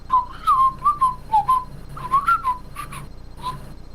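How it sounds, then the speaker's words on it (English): A SpongeBob-style whistled tune of quick, bright, sliding notes in short bursts, heard clearly on its own without any talking. "now I got that SpongeBob whistle stuck in my head"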